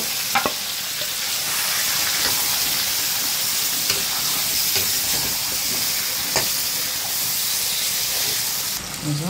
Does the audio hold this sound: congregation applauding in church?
no